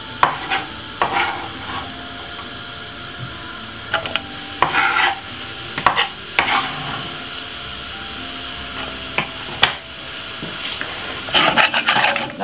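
Garlic, spring onion, white onion and fresh thyme fry in a pan for chilli con carne, giving a steady close sizzle broken by repeated scraping stirs, with no talk.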